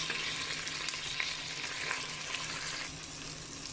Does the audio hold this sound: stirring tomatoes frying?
yes